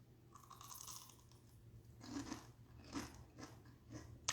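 Crisp crunching bites of a fried snack, several loud crackling chews close to the mic with short pauses between them, set in a home kitchen.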